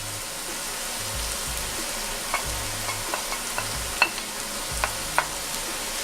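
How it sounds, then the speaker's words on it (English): Garlic frying in a pan for coconut curry shrimp, a steady low sizzle with scattered clicks and knocks from stirring, close up with no voices. "So I'm gonna add my garlic."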